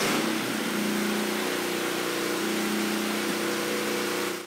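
A 212 cc Predator small engine fitted with an oil cooler runs at a steady pace close by, giving a constant droning hum that cuts off abruptly at the end.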